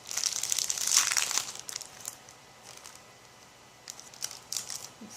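Crinkly plastic bag of stickers being opened by hand, with a loud burst of crumpling near the start, then quieter intermittent rustles and crinkles.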